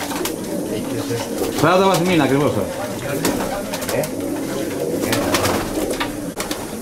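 Young diving-breed pigeons hatched in 2016 coo repeatedly in a rolling, throaty rhythm nearby, while someone talks over the birds throughout.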